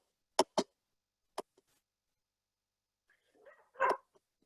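A cartoon dog in a kids' coding app barks two quick yips, then one more, followed after a pause by a longer, louder bark, quiet and sparse with silence between.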